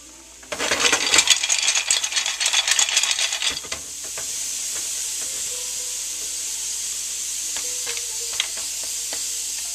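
Mussels hit a hot skillet with a loud burst of sizzling and clattering shells for about three seconds, then settle into a steady, quieter sizzle with occasional pops and ticks.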